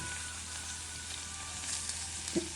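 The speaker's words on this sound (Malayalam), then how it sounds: "പച്ചമുളക് ഇഞ്ചി ഒന്ന് നന്നായിട്ടൊന്ന് വാടി വരാനായിട്ട് നമുക്ക് വയ്ക്കാം" Ginger and green chili sauté in oil in a pan with a steady, fairly quiet sizzle and a single light knock near the end. No voices are present.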